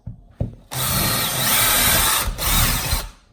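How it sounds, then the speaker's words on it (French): Power drill boring holes through tiled kitchen wall for wall cabinet fixings: a harsh, steady grinding whine runs for over two seconds, briefly dips, then resumes before stopping, preceded by a couple of short knocks. "Ensuite, on perce."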